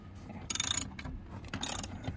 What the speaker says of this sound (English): with a 13mm ratchet set or ratchet wrench, we're going to loosen that bolt